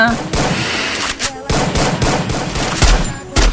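Bursts of gunfire from the Free Fire battle game, rapid shots with loud thumps near the end, with a voice briefly heard amid the shooting.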